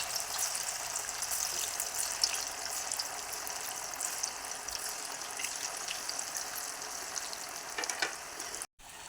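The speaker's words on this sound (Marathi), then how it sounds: "आता चला तर मग आपण आता तळून घेऊया आता आपण वडे सोडून घेऊया" Colocasia leaf vadis frying in hot oil, a continuous fine crackling sizzle heard close and moderately quiet, with a brief clink near the end and no talk.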